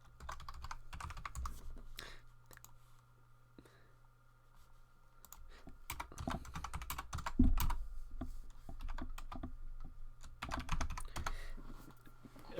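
Clicky computer keyboard typing runs steadily throughout during a relaxed game stream, irregular rapid keystrokes with a few louder taps, under a low background hum.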